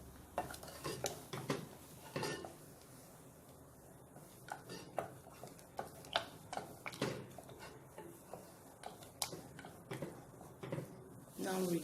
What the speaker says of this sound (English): I have to add the unripe plantain paste and stir.